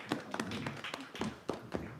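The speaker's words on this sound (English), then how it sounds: "what about a round of applause for all our speakers and" A round of applause for speakers and presenters at a science and religion talk, heard as a small, fairly quiet scattering of distinct hand claps in uneven rhythm over about two seconds.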